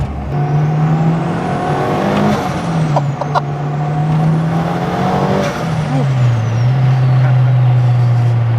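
A turbocharged Honda DC2 Integra Type R VTEC engine revs loudly and steadily, pitch rising and falling through several pulls, with a drone of road noise beneath.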